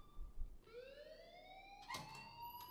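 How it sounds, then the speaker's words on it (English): A rising, wailing alarm tone sounds in the video game Life is Strange, sweeping upward and steady, with a sharp clang near the middle. "please turn off that alarm since that's your job"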